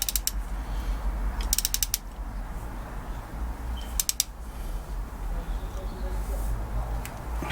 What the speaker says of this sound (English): So now it's just a case of retightening these bolts again, just enough to keep everything sealed